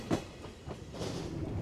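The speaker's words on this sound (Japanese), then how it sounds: "まもなく高岡駅に到着しようというところで貨物列車が見えてきました" A freight train hauled by an EF510 electric locomotive runs near Takaoka Station in Toyama, a brief, faint rumble of rolling wagons with a soft rhythmic clatter.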